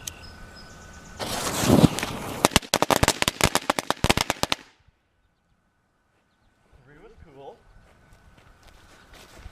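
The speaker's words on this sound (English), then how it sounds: "So they're kind of like little mini fireworks, not necessarily firecrackers, but still pretty cool." Homemade firecrackers made from cut-down fireworks with short, fast-burning fuses go off in a rapid, crackling string of sharp pops for about three seconds, followed by silence and then faint voices.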